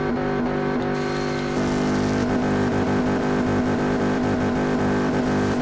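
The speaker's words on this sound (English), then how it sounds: "At least it's a decent sounding engine" In the video game Test Drive Unlimited 2, a car engine holds at the rev limiter, a loud steady buzzing drone with rapid stuttering cut-outs that carries on without a break, with no talking over it.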